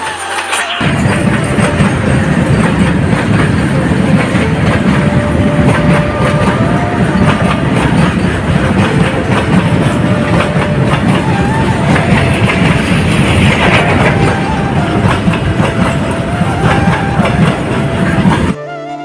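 A train rolls steadily past close by on a railway line, with a continuous loud rumble and rattling wheels heard throughout, alone and without talk.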